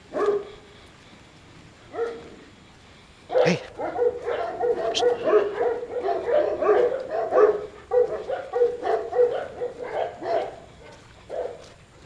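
Two Caucasian Ovcharka dogs, a mother and her daughter, in tense close contact, giving repeated whimpers, yips and short barks in a busy, continuous run, with a sharp loud burst early on.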